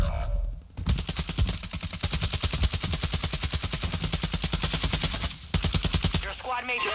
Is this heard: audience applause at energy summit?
no